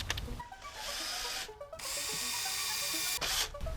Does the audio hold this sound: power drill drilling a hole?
yes